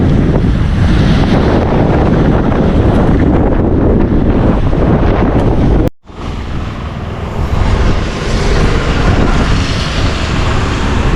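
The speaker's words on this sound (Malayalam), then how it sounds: "ഇവിടെ നിന്ന് എടുക്കാൻ പറ്റാത്ത സാഹചര്യത്തിലുള്ള കാറ്റാണ്" A strong storm wind at Thottappally on the Kerala coast roars steadily and loudly into the microphone, with heavy buffeting. It cuts out briefly partway through, then resumes just as forcefully, with no talking.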